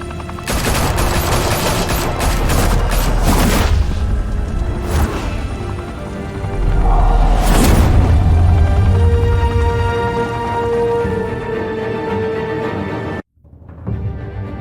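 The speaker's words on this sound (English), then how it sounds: "Open fire!" Dense gunfire and blasts from the Batman Telltale Series game in Gotham, with rapid bursts of automatic fire and loud booming explosions packed closely together, dropping into a sharp cutoff near the end.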